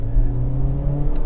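A 2023 Honda HR-V with a CVT held on brake torque at a little over 2,000 RPM, its engine giving a loud, steady close drone inside the cabin, with a soft click near the end.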